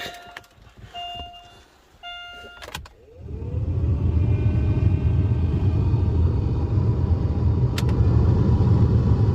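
A few clicks and beeps, then the AC blower fan of a 2005-or-later Chevy Aveo/Optra with a new resistor starts up and runs steadily with a loud, even whoosh of air.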